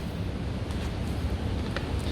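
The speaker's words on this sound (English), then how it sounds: "wind outside, guys." Steady wind buffets a microphone outdoors beside a car being stripped of its LS1 engine and gearbox, a constant low rumbling roar with no talk.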